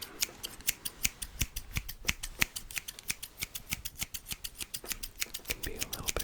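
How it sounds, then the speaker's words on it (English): Small barber scissors snip hair in a rapid, even rhythm of crisp close-up clicks, steady and quiet with no voice over them. "Now I've got our slightly smaller scissors that do slightly"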